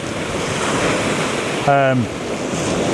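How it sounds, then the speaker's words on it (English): Sea waves roll in along the Holderness coast about an hour after high water, a steady close roar of surf mixed with gusting wind across the microphone, with a brief voice-like tone cutting through near the end. "the sea is definitely lifting"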